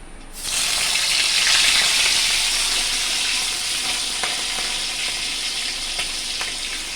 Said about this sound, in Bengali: এবার আমি এক এক করে মাথা ভালো করে ধুয়ে নুন হলুদ আমি মাখিয়েই রেখেছিলাম আমি তেলের মধ্যে দিয়ে দিচ্ছি